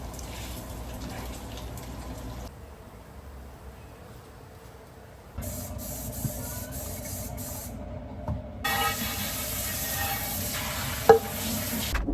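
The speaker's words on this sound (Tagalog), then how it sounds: "So igluto tag bacon yun guys, ato ni ipa-crispy." Bacon frying in a pan until crispy, a steady broadband sizzle running through, quieter for a stretch then louder again with faint stirring and clatter.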